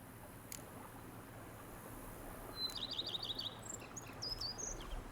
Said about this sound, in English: peace and quiet, bees buzzing, birds chirping